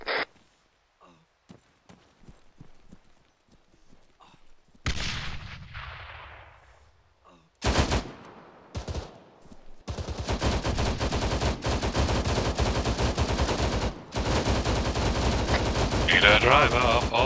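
Gunfire in the military video game Arma 3, starting with sparse distant shots, then loud close bursts and sustained heavy automatic fire with rumbling blasts that rolls on continuously, with voices talking now and then.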